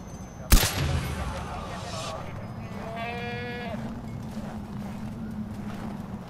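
A goat in Far Cry 4 gives one short wavering bleat, heard after a sharp loud bang and an earlier rising in-game noise, over a continuous low ambient rumble.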